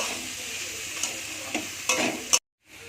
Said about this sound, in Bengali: এবার আমি ভালো করে ঝিঙেটাও ভেজে নেব